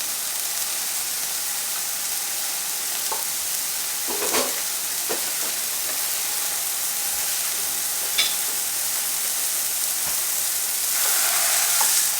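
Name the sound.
thin frozen sausage patties frying in a hot pan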